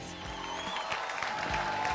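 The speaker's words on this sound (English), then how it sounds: "Round of applause, Malaysia style, for all the bands who competed tonight." An audience at a battle of the bands final in Malaysia applauds the competing bands, a fairly faint, steady wash of clapping with crowd noise behind.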